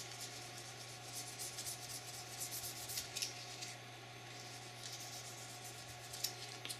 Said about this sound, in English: I'm actually polishing it a little too while I do this.